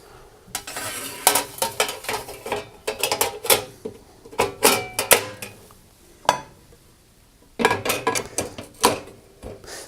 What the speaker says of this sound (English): Then I can refit the griddle parts.